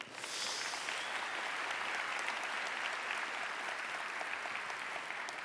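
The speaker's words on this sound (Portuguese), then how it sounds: "Salva de palmas, glória a Deus." Steady applause from a church congregation, dense clapping that starts quickly and holds at an even level throughout.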